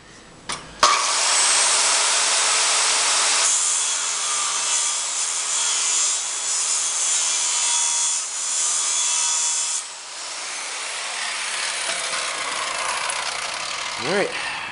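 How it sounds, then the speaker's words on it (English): A circular saw cuts through steel knife blade stock, a loud, continuous high-pitched whine and grinding roar that runs almost the whole time, then eases as the blade spins down near the end. "circular saw makes pretty quick work of that"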